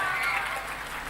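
A crowd at a religious Ram Katha gathering breaks into applause, a brief, dense wash of clapping heard at moderate distance.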